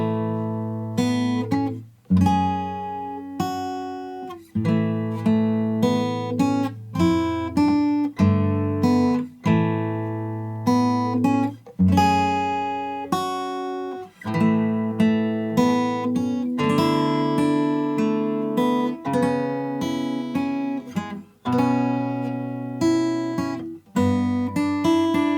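Guitar plays the opening line of a video game's main theme in standard tuning with open strings ringing, a steady run of plucked notes and chords that sounds close and clear, with no voice.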